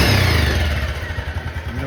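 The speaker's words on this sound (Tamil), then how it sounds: "இன்ஜின் சவுண்ட்லாம் பார்த்தீங்கன்னா பயங்கர ஃபைனாக ஸ்மூத்தாக இருக்குது" A restored old motorcycle from a village market idles steadily at close range, its low engine throb even and smooth with a faint mechanical clatter, no voices over it.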